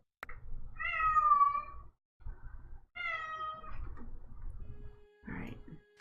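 A hyper pet cat lets out two long, drawn-out meows close by, separated by a brief pause, then gives a short, softer third call at the end.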